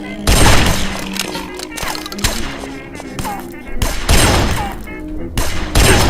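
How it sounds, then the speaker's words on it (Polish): Shotgun blasts from the zombie shooter game Guns, Gore & Cannoli, several loud, heavy booms at irregular intervals amid other game noise, with someone talking between and over the shots. "Jeden strzał z shotguna i od razu się uciszył."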